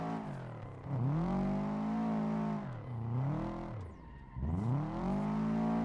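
A drift race car engine in Assetto Corsa revs hard through long sweeping pitch rises and drops, bouncing off the limiter in three surges, loud and close, with tire noise underneath and no talking.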